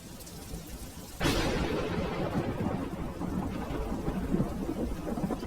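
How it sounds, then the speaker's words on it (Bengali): Heavy rain in a cartoon begins abruptly after a quiet moment, a sudden loud wash of downpour that then holds as a dense, steady roar of falling water with no voices. "দেখা যাক বৃষ্টি কমে কিনা।"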